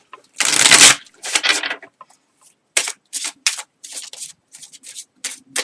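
Tarot cards being shuffled in bursts of crisp riffling and rubbing, one long loud shuffle followed by several shorter, quieter ones with gaps between, no talking.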